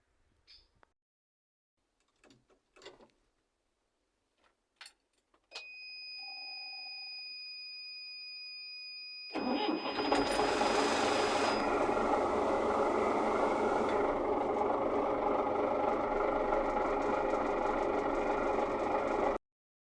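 MTZ-82.1 tractor engine running while hauling firewood. Scattered clicks give way to a steady tone, then the diesel rumbles up loudly and holds a continuous, even drone to the end.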